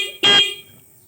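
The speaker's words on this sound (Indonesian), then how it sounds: "kita cek pada bagian klakson apakah sudah bisa untuk berbunyi" A car horn, connected and tested after wiring work, gives one loud, bright honk of about a fifth of a second, then silence.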